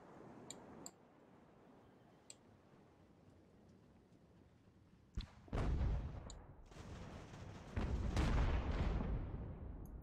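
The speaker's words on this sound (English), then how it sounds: "That's pretty cool with our stern gun firing on them." A sailing warship's stern gun fires cannon shots in the naval battle game Ultimate Admiral Age of Sail: a sharp report, then a louder booming salvo with rolling rumble, then another heavy blast later, over faint crackling ambience.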